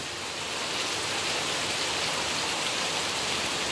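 Steady rain pours down on a wet afternoon, an even, dense hiss of drops on surfaces that holds at a constant level throughout, with no voices.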